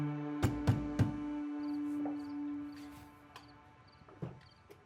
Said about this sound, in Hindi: पाकीज़ा जी, दरवाजा खोलें।